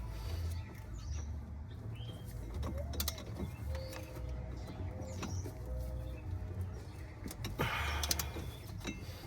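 Wrench ratcheting and tightening an inner tie rod on a 2016 Honda Accord, a run of creaking metallic clicks and mechanical grinding up close, with faint background noise and no talk.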